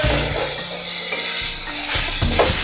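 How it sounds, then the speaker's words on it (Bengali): Chicken with turmeric and garam masala stirred in a hot pan for coriander chicken, a close, loud sizzle with scraping strokes that pause briefly and then pick up again, with no talking. "সেটাকেও কিন্তু নাড়াচাড়া করে ভালোভাবে সমস্ত মাংসর মশলার সাথে মিশিয়ে নিতে হবে।"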